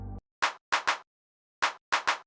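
Lo-fi hand claps from an old R50E drum machine sound as five sharp, dry hits in two short groups, each group one clap followed by a quick pair. A brief tone comes first, and no one speaks.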